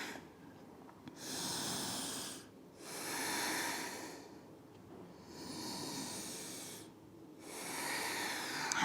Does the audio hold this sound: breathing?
yes